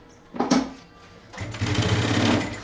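A sewing machine sews a closing safety seam on a backpack. A short burst of stitching comes first, then a steady, close whirring run that continues to the end.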